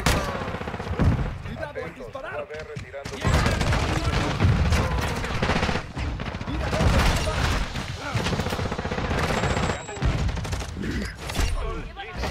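Dense, continuous gunfire in a Call of Duty: Modern Warfare match, with rapid automatic bursts and booms at high volume, with a voice speaking over parts of it.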